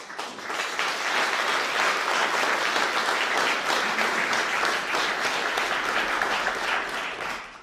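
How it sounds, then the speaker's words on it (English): Sustained applause from a sizable audience at a speech by President Joe Biden on World AIDS Day, a dense steady patter of clapping that holds for several seconds and then begins to fade. "You better get an applause after that one."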